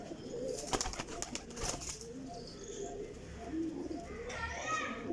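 Pigeons, a flying breed kept in a group of fourteen, coo softly in low repeated calls, with brief wing flaps and distant children's voices around them.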